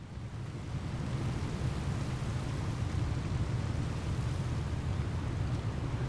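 Steady rushing of ocean waves against a boat while sailing into the swell in Ships at Sea, a continuous low roar with no talk.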